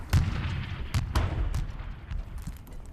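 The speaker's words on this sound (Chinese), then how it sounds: "炮击量太大了，攻势肯定撑不住。" Heavy artillery bombardment in a war film set during the Battle of Chosin Reservoir, with repeated deep booms and blasts in quick succession, some close and sharp, others rumbling in the distance.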